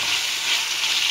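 Paneer frying in a kadai while being lightly stirred, producing a continuous bright, hissing sizzle that holds steady and close throughout, with no voices.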